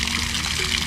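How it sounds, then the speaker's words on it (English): Water runs from the spigot of a homemade 55-gallon rain barrel in a steady, close, continuous gush that holds an even level from start to finish, with no voices. "Running water."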